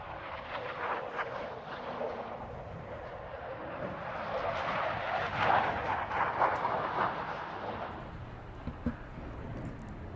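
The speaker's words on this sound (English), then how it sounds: "And here now the high-speed pass as both aircraft join together." Two aircraft making a joint high-speed pass at an airshow, a broad distant roar that swells and fades over several seconds.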